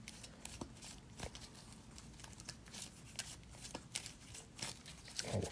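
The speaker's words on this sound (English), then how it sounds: "this is the deck. I'm just going to shuffle this up." A deck of playing cards is shuffled up close, with quiet, rapid riffling flutters and soft slaps repeating in short bursts, faint and alone without talk.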